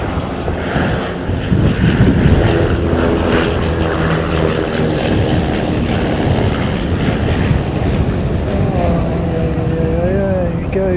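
A United Boeing 787-9 airliner in a special SAF livery passes with a loud, steady engine roar that swells and holds, with a rising whine near the end.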